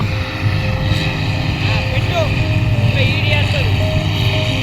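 A chain-track paddy harvester's engine drones steadily throughout, loud and continuous with a low mechanical rumble, and faint voices can be heard underneath.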